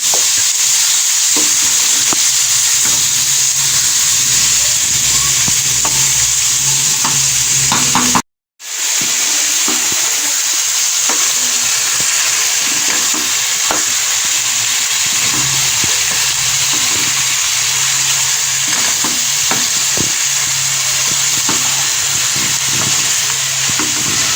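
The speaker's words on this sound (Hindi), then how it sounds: "जी तो कलेजी को भूनते हुए मुझे 3-4 मिनट हो गए।" Goat liver (kaleji) fries in masala in a pan, a loud, continuous sizzle with steady stirring and scraping that runs nearly the whole time, broken only by a brief cut-out.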